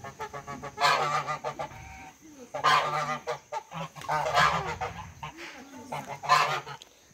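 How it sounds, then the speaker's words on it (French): Geese honk loudly in repeated nasal bursts from their enclosure, which they share with ducks, their calls overlapping in a noisy group chorus close by. "je vous présente mes oies qui sont déjà en train d'éclore"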